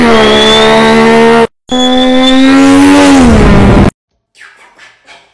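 A voice mimics a car engine, two loud, close revving bursts separated by a short break, the second holding high then dropping, followed by faint breathy sounds.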